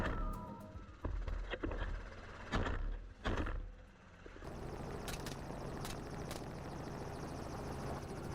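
A helicopter's rotor thrums, first with a few sharp bangs and shifting noise, then a steady loud whir with rhythmic beating.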